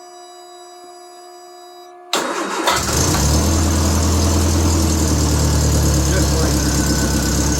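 A car brought out of winter storage cranks briefly after a steady background drone, then its engine catches and settles into a loud, steady idle up close. Someone speaks briefly as it starts.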